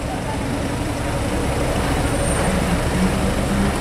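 A Porsche Turbo S Exclusive drives out of Juan-les-Pins. A steady, broad road rumble holds throughout with no distinct rev, and faint voices sit in the background.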